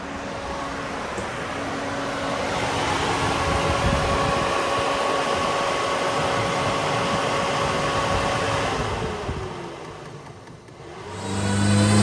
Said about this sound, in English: We have a fan. Nice big 5.